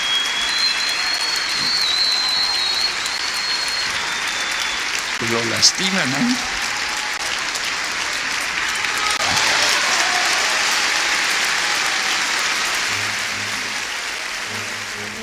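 Applause on a Mexican news talk programme, a steady broadband wash of clapping running throughout at moderate level, with brief speech bursts partway through and a voice speaking near the end.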